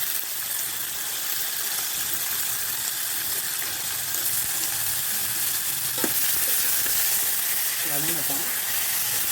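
Onions and tomatoes sauté in a pan for a lemon pepper mint chicken curry, a loud continuous sizzle with occasional stirring scrapes and a short voice near the end.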